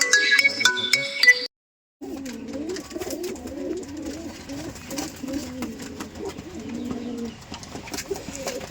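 Rajshahi Giribaz pigeons coo repeatedly in a low, rolling murmur close by, with a brief burst of other noise at the start and a short silent gap before the cooing continues.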